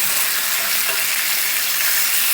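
Chicken pieces sizzling on a hot grill, a loud, dense, continuous crackle close up, with no voices.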